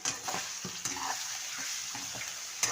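Mutton liver sizzles in oil in a pan as crushed red chili is stirred through it, with close scraping and light clinks of the spoon against the pan over a steady hiss; no talk.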